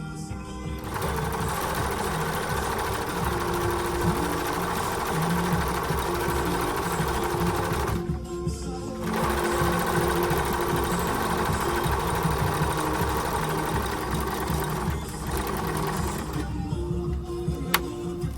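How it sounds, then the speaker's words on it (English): A freshly serviced Bernina 1230 sewing machine stitches a buttonhole, running in a steady, close, continuous mechanical whir with two short pauses as the stitching changes direction. "It's making a nice buttonhole, and every rest of the stitches are perfectly fine."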